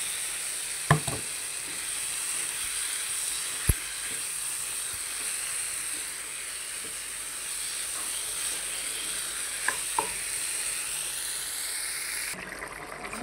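Chicken frying in thick spiced masala gives off a steady, soft sizzle and hiss, with a few sharp clicks of a spoon against the pan.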